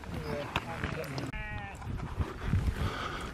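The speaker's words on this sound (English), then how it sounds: "There's some angry sheep round here today. They're really growling at us." Angry sheep bleat near a cows' feeding station on a countryside ramble, several harsh, wavering calls close by, with walkers talking over them.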